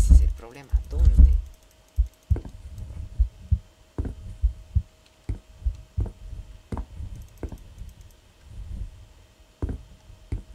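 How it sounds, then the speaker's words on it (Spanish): A muffled heartbeat thumps behind a door in a Spanish-language horror video game, a steady doubled throb repeating through low ambient drone, with a few louder knocks at the start. "el corazón está en la puerta de ahí, que se escuchan las palpitaciones"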